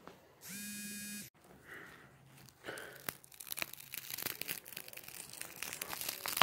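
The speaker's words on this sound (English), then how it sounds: "As you guys can hear crunching" A brief electronic tone, then a series of close crackling and crunching sounds from a glass screen protector breaking, growing busier and louder toward the end.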